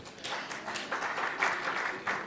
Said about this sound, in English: a warm round of applause once more for Jamila Wiras here.